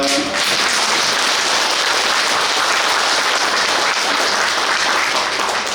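Sustained audience applause at a Catholic parish faith-school lecture, dense steady clapping from a room full of people filling the whole stretch with no talk over it.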